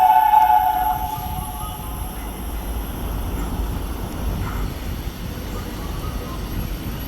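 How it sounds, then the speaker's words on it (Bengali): Train rolling along a railway line near an elephant's resting place, a steady low rumble of wheels and cars that stays fairly loud and continuous, slightly stronger at the start. "দেখতে পাচ্ছি ট্রেন চলে যাচ্ছে লাইন দিয়ে"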